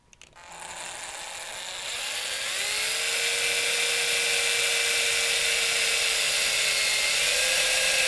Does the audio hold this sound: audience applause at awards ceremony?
no